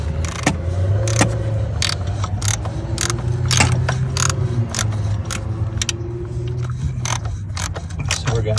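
A new oil pressure sensor being fitted into a 2015 Dodge Durango: close metallic clicks, ratcheting and light rattles of tools and parts over a steady low hum, with no clear speech.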